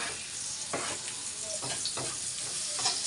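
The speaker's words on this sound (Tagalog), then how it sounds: "Gisa na po siya ng kamatis at saka sibuyas" Tomato and onion sautéing in a hot pan: a steady, close sizzle with a few short stirring scrapes, no talk.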